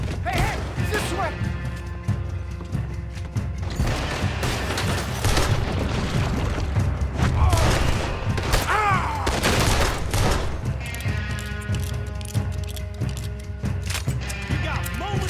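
Gunfire in the Red Dead Redemption 2 video game bursts in rapid, repeated shots and booms, mixed with voices and musical tones, fairly loud and busy across the whole span.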